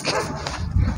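A husky barking, a brief close bark or two within one second, loud and mixed with people talking nearby.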